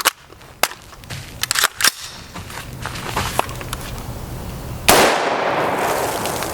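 A 20 inch AR rifle fires .223 Remington 55 grain hollow point rounds outdoors, several sharp, loud cracks in an irregular sequence, with a final heavier blast trailing into a rushing decay.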